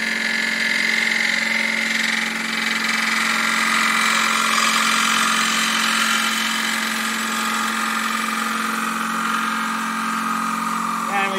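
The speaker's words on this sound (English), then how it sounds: "Now we gouge against the side wall." A wood lathe spins a bowl while a bowl gouge cuts against the side wall, producing a loud, continuous whirring drone with a steady hiss of cutting that barely changes throughout.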